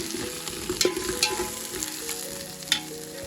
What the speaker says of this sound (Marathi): यामध्ये हिरवी मिरची ॲड करणार आहे कापून टाकते हिरवी मिरची मी अशीच कापून टाकते आता याला छानपैकी फ्राय करून घेणार आहे